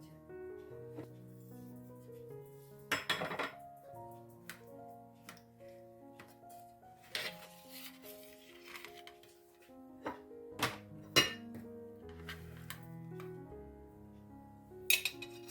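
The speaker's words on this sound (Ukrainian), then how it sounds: "Зараз будемо різати." A knife cuts a pumpkin and milk jelly dessert on a plate, giving a few sharp clinks and taps of metal on the plate, separated by quiet stretches and set against faint background music.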